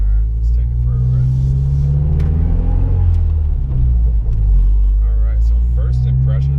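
A Mazda Speed3 drives off with a deep, loud engine rumble and road drone heard from inside the car, while voices talk over the steady noise.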